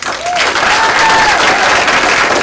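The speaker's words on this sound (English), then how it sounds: "Round of applause." A crowd at a DC Improv Level 2 graduation showcase gives a round of applause, a dense, loud, steady roar of clapping with a few faint whistles rising above it.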